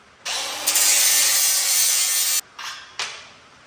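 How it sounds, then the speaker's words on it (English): Steel bumper piece for a Suzuki Samurai stubby bumper being ground to clean off slag: a loud, harsh grinding roar runs for about two seconds, then two short grinding bursts follow. "So I'm gonna do some grinding on this and make sure it fits good before we weld it"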